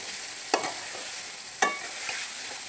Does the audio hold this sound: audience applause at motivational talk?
no